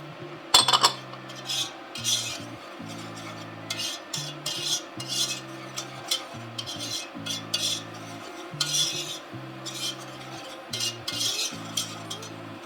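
Flour is whisked into melted butter in a pot for a cream of chicken soup roux, giving steady scraping and stirring clinks against metal, rhythmic and close, with no talking.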